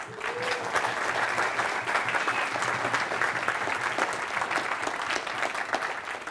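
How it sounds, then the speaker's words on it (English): Audience at an auditing and assurance conference applauds steadily, a dense wash of many hands clapping at a constant level throughout with no pause. "So the real applause now should be for Jan."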